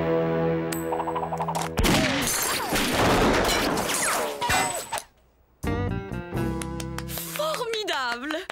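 Cartoon gunfire from Lucky Luke showing off his shooting, a burst of rapid overlapping shots with clangs and metallic pings, then a brief silence, followed by animated voices speaking over bright sound effects.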